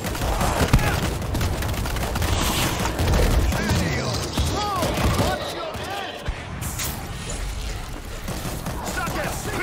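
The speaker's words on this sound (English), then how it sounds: "That's not gonna punch without a breaching charge. I'm gonna blow it!" Explosive blasts and gunfire from a breaching charge blowing open a gate in the World War Z video game, dense and loud throughout amid zombie-combat chaos, with game voices shouting over it.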